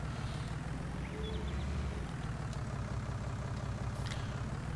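A tractor engine idles in Farming Simulator 19, a low, steady, continuous chugging hum that holds an even level throughout with no voices.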